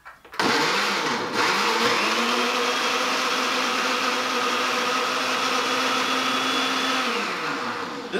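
A blender runs steadily for about eight seconds, whirring a smoothie made with a small splash of tomato juice; the loud motor hum holds constant with shifting tones as the contents churn, with no talking.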